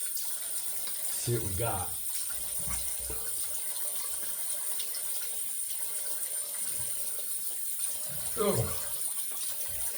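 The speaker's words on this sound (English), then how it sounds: "Rinse this, give it a rinse here" A tap runs quietly as something is rinsed under it after a shave with a PAA Alt 11 safety razor, with low splashing and a couple of louder gushes, and brief quiet speech over it.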